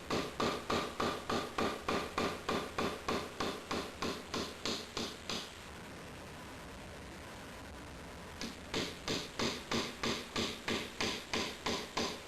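A pointed chisel taps out the transmission output seal on a Pontiac Fiero: rapid, evenly spaced metallic taps up close, then a brief pause before the same steady tapping resumes. No one speaks.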